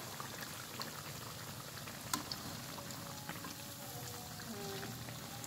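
Sliced banana fritters in crispy batter sizzle and bubble steadily in hot oil, a dense, even frying hiss with scattered pops and crackles, close up and without talking.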